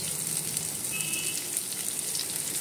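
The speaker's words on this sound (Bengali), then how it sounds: "পেঁয়াজটাকে একটু লাল লাল করে ভেজে নেব।" Sliced onions fry in hot oil with green chillies for a Bengali bata fish curry, giving a steady, close, even sizzle that holds throughout with no talk.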